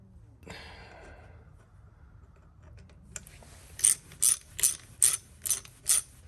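A hand ratchet tightens a bolt on the clutch of a Honda Shadow VT1100 motorcycle. After quiet handling noises, six sharp, close metallic clicks come in an even rhythm.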